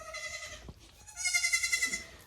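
Several goats in a herd bleat loudly and repeatedly, one long harmonic cry followed by a brief pause and then a stronger overlapping chorus of bleats close to the microphone.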